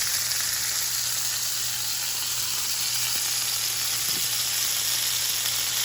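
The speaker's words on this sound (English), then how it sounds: "Alright, we got that hard sear." Steak searing in a hot, greasy pan, a loud, even hiss of fat that holds steady from start to finish with no voices.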